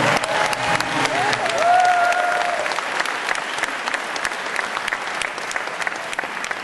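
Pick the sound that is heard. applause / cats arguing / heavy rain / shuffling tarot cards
applause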